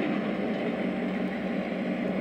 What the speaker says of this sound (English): Now we'll get it revved up a little bit.